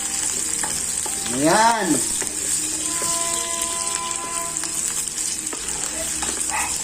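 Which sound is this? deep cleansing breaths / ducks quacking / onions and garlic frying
onions and garlic frying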